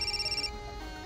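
A telephone rings with an incoming call, a rapid warbling electronic ring pulsing for about half a second before falling silent under a low indoor hum.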